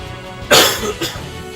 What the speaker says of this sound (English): Why am I coughing so much today?